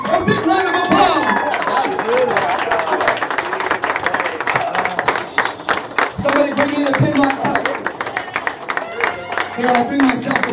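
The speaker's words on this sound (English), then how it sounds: "Let's give our two participants a big round of applause." An audience at an arcade house party's Pinbot pinball cup championship claps for two participants, a loud, close, continuous burst of applause mixed with crowd chatter.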